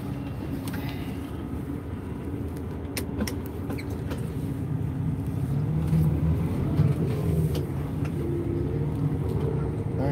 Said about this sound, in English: let me back up here and we'll hook up to the trailer and at least pull out of here